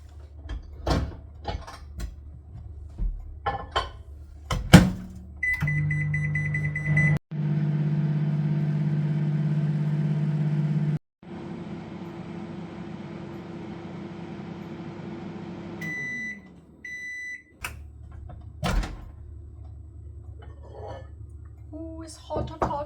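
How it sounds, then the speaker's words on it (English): A microwave oven heating pasta hums steadily for several seconds after button beeps and a door clunk, then stops with beeps as the door opens, with scattered handling noises around it. "So I'm going to put them in the microwave for 8 minutes."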